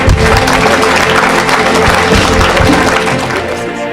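A congregation claps continuously at a deliverance church service, dense, loud applause with crowd noise running steadily throughout.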